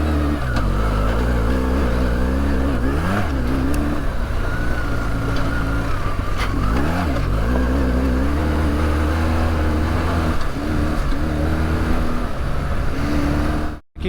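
A Kawasaki KLR650 motorcycle rides along at a steady pace, its single-cylinder engine droning loudly and continuously with small rises and dips in pitch as the throttle changes, plus wind rush, and the sound cuts off abruptly at the end.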